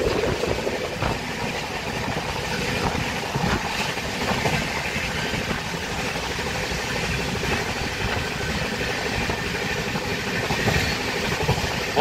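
Kagaznagar superfast express racing along at speed, a dense continuous rumble of wheels and carriage noise with rhythmic rail clatter, heard steadily from inside the train.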